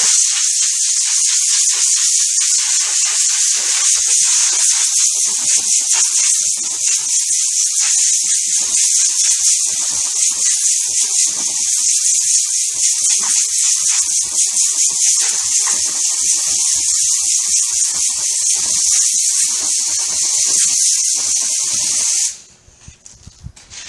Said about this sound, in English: That's a big air compressor, and we just take and blow them out.